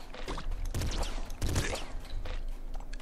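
Rapid gunfire bursts from Nuclear Throne, several sharp shots in quick clusters with mechanical clatter, loud and close over steady game background noise.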